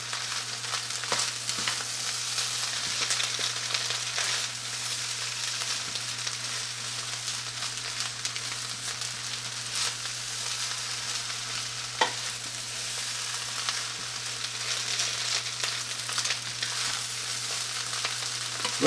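String beans stir-fry with fried rice in a hot pan, a constant crackling sizzle with scraping and stirring throughout, no talking, steady hum underneath.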